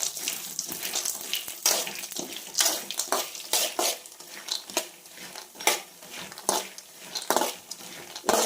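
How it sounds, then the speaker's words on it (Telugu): Almonds frying in hot ghee in a pan, stirred steadily, give a continuous close sizzle with repeated scraping and stirring strokes throughout, no voices. "ఇలా కలుపుతూ దోరగా ఫ్రై చేసుకోవాలి."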